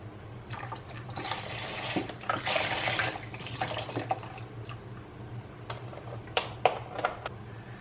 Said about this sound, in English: so we're going to add some more of my chicken broth.